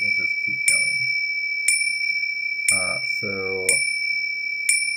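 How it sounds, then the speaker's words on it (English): Metallic gong-like strikes triggered in a game engine ring out at roughly one-second intervals, each tone lingering and overlapping the next, while someone speaks briefly over them. "if you have like a gong and you want to play another gong on top of it"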